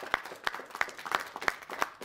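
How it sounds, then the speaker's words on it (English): At a press conference for bill H.B. 6901, a handful of sharp claps land at a steady beat of about three per second. They are sparse and fairly close, with a faint murmur of the room underneath. "I think this deserves a round of applause"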